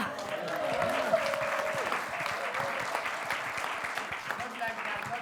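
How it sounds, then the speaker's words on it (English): An audience at an international conference claps for the moderator, a steady, moderately loud patter of many hands with a few voices murmuring underneath. "Can we give a special clap to our moderator?"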